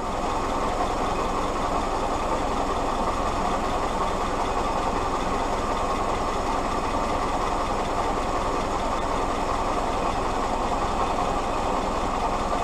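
An old Willys jeep engine idles steadily and evenly for the whole stretch, a constant low rumble with no changes in speed and no voices.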